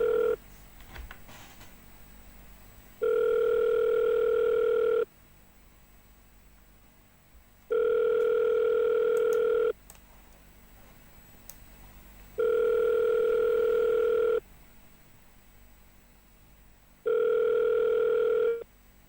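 An outgoing phone line rings on a cold call, with four evenly spaced long ring tones separated by quiet gaps, clear and alone.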